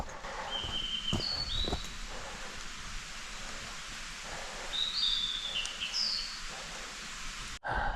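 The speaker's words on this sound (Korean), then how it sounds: "새소리에 잠깐 쉬어갑니다" Faint high chirps and whistles from birds come through a steady hiss of wind or rain in a summer mountain forest near a valley, with occasional soft thumps.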